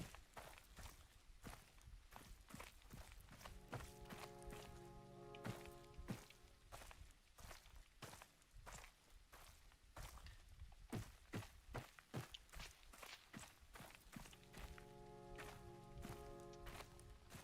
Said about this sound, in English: Like I hear someone's footstep.